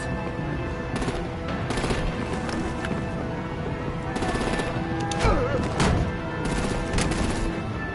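Gunfire and heavy weapons in Batman: The Enemy Within during a vehicle assault, a dense clatter of shots and bursts, loudest around the middle and later, with voices shouting over the fighting.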